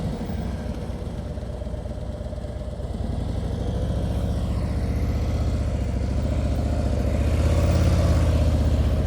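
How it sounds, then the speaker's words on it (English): Several motorcycle engines idle and putter at low revs during slow-speed riding practice around cones, a steady low rumble that swells slightly toward the end, with no voices. "And you hear the engines, nothing is excessive. They're not over revving."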